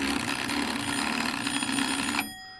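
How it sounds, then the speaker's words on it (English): A doorbell rings continuously for about two seconds in a bright, steady electric trill, then cuts off abruptly, leaving a faint fading tail with no voices. "That is a doorbell, not his stomach complaint"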